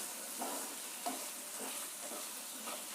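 Diced potatoes fry in hot oil for an aloo capsicum masala gravy, giving a steady soft hiss broken by gentle, regularly spaced scrapes of a spoon stirring them, with no one talking.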